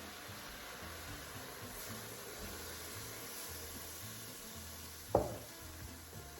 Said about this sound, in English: So we're going to deglaze the pan a little bit with this white wine